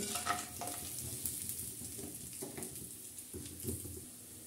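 Whole cinnamon, cardamom, black cardamom, bay leaves and cloves sizzling in hot oil for beef biryani, a steady close crackle with small bursts of spattering and stirring throughout.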